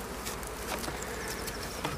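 Honey bees buzz around an open hive during a spring inspection, a dense, continuous close hum of many insects over two seconds.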